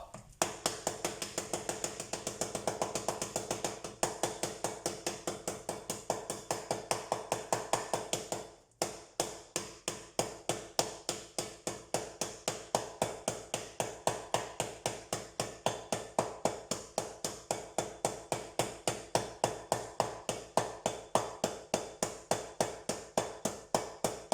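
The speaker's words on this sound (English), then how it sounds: "So what I've got here is a hammer." A hammer breaks up a block of milk chocolate while baking brownies. It gives a long series of evenly spaced, sharp taps at a quick steady rhythm, with a brief pause near the middle.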